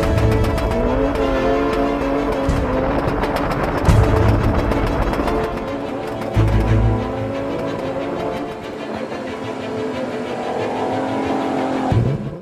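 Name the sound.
car chase with drifting cars in a film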